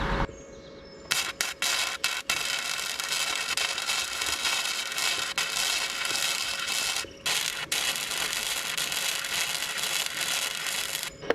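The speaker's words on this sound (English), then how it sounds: "it's cutting out, but it's welding, so I turn the wire speed up a little bit" A wire-feed welder repairs a damaged lawnmower with a dense, continuous crackling buzz that cuts out briefly a few times near the start and once mid-way, then resumes steadily at close range.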